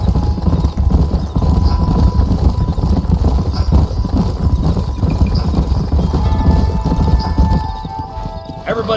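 Horses' hooves clip-clop loudly and continuously in Red Dead Redemption as a group of riders moves along, with a steady rhythmic trot up close and a voice speaking near the end.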